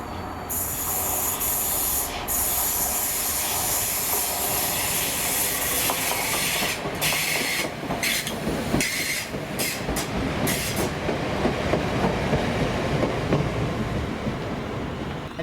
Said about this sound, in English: this is 2G33, the 1722 Scotrail service to Gourock from Glasgow Central with 318 262